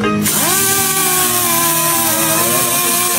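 A handheld power grinder runs loudly and continuously up close, spinning up with a rising whine and then holding a steady high-pitched drone as it is pressed against fingernails.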